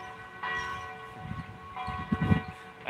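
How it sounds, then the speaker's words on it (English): A church bell rings from across a bay on a rainy, stormy day, with two faint, distant sustained tolls over a low background rumble. "I think that's one of the church bells across the way"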